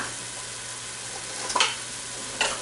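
Ginger and garlic paste sizzle steadily in a pan, with a couple of brief stirring scrapes over the constant frying hiss.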